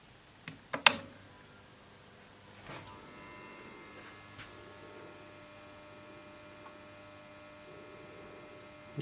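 A vintage Collins valve radio rig switches on with a few sharp clicks, then settles into a faint, steady mains hum with occasional soft ticks.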